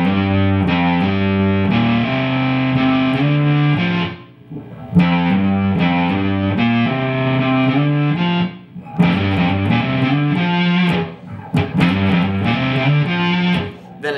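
Distorted electric guitar plays a riff slowly, in loud, chunky phrases separated by brief gaps and pauses.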